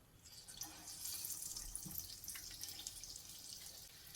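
Hands being wetted with water from a bowl while shaping urad dal vadas; soft, faint watery splashing and dripping runs steadily for a few seconds with no voices.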